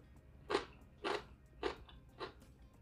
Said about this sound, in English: Pickled mustard greens have a really, really nice crunch to it.